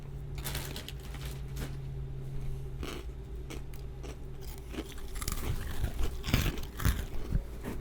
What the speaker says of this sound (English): How's this chewing effect?